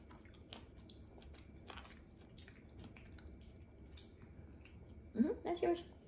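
Crunchy tropical fruit chewed during an eating show: sparse, quiet crisp crunches and wet squishes, with a brief murmured vocal sound near the end.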